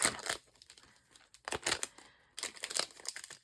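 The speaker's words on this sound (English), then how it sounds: "Sorry for the crinkling." Mail packaging crinkles and rustles as it is opened, in three short close bursts of crackling plastic or paper separated by quiet gaps.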